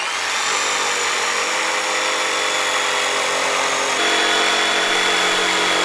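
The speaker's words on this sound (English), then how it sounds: "And then to do the cutting, I'm going to use my jigsaw." A jigsaw cuts through real wood siding, giving a steady, loud, high-pitched motor whine and buzzing blade that runs without a break, close to the microphone and slightly louder near the end, with no voices.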